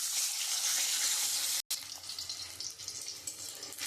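Eggs coated in salt and turmeric fry in hot oil, a steady, close sizzling hiss that cuts out for a moment and then resumes more unevenly.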